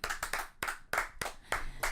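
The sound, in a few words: people clapping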